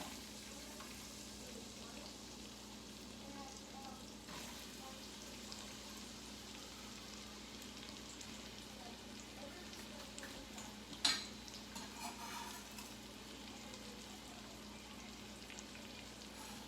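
Whole cloves, carrots and leek sautéing in olive oil and butter, a faint steady sizzle with one sharp clink partway through and a few softer knocks after it.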